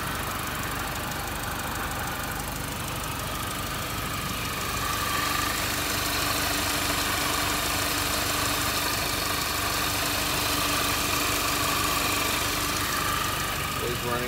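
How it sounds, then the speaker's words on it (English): A 2006 Mini Cooper S with a 1.6 liter supercharged engine idles steadily and quietly nearby, a smooth continuous hum with no misfires, heard alone without talk. "This is the S model Mini Cooper with a supercharged engine."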